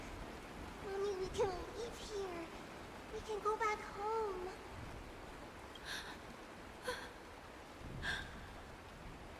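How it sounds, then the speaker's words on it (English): Rain falling in the video game Honkai Star Rail, a soft, steady hiss heard faintly beneath a voice and other spoken dialogue. "This is the sound of rain."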